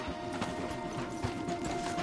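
Horses' hooves clip-clop steadily on a woodland path among trees, a soft, continuous patter of footfalls at moderate distance under a steady background hum.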